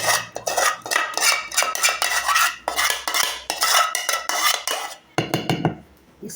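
Fava beans go into a tagine pot, with busy clinking, scraping and clattering of a utensil against cookware that continues steadily, then briefly thins out near the end.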